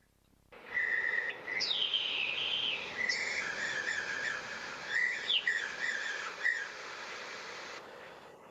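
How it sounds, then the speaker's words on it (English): Synthesized birdsong made by DDSP timbre transfer with a model trained on red cardinal song: a run of clear whistled chirps and sliding tweets, fairly steady and close, with no talk. "we tried to use the timbre transfer from DDSP with two models we trained, so the red cardinal and the seagull"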